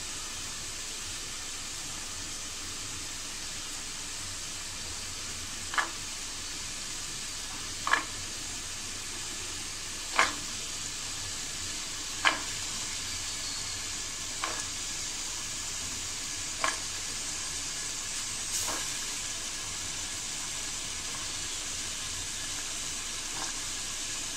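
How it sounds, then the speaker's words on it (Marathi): Chickpeas are stirred into sizzling, oil-released Punjabi chole gravy in a pan. A steady, soft sizzle runs throughout, with sharp spoon taps about every two seconds and no talking. "आता आपण याच्यामध्ये काय करूया, आपले चणे टाकूया"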